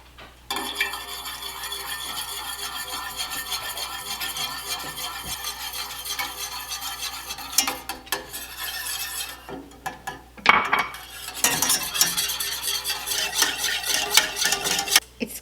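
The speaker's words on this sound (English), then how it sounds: "I am just going to whisk in this milk" Milk being whisked into cooled butter in a pot, with a steady metallic whisking and scraping that runs the whole time, sometimes louder and busier, and no one talking.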